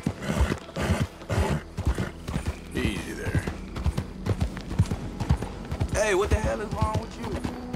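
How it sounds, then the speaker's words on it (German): Horse hooves clip-clop in a rhythmic trot while riding in Red Dead Redemption 2, with game sounds around them and a voice talking over the top. "kann doch bestimmt hier rum auch reiten"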